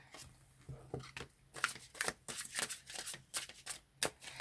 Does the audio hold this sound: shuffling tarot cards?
yes